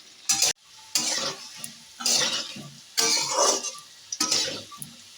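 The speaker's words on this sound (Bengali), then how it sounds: "আলুটাকে বেশ গোল্ডেন ফ্রাই করে নিয়েছি। এইভাবেই কিন্তু আলুটাকে ভাজতে হবে।" Potatoes fry in hot oil for Kashmiri aloo dum, giving bursts of sizzling and stirring with scraping pan and utensil sounds, loud and close, separated by short quiet gaps.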